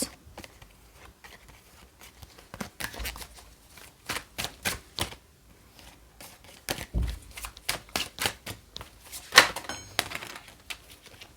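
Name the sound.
handling and laying out tarot cards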